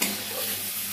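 Tomatoes being stirred in a frying pan while cooking, a soft continuous sizzle with light scraping from the stirring, close and steady, with no talk.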